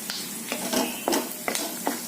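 Urad dal and cumin sizzle in hot oil alongside peanuts while chutney is cooked, a steady frying crackle punctuated by about six soft stirring scrapes at a close, moderate level.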